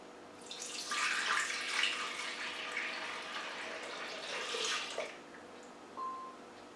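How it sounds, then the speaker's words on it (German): Milk, 500 grams, poured into a mixing container for vanilla pudding, a steady liquid splashing and gurgling for about four seconds, close and alone, then a brief tail of dribbles. "Dann 500 Gramm Milch dazu."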